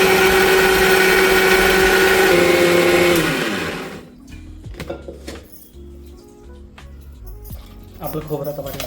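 A mixer grinder whirs loudly as it blends coconut with roasted spice masala of sesame seeds and cumin, running steadily for about three seconds before stopping, followed by clattering jar and utensil sounds.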